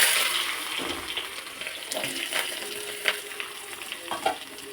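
Lengthwise-sliced onions fry in hot oil in a pan while cooking bisi bele bath, a continuous close sizzle with scraping stir sounds and a few louder pops, no talking.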